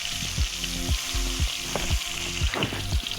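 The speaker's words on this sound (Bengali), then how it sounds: "মাছটা কিন্তু কড়াই তেলের ওপর দিলে ফাটে" Steady close sizzling and crackling of pangas fish frying in hot oil in a kadai, dense and continuous with small pops, no voices.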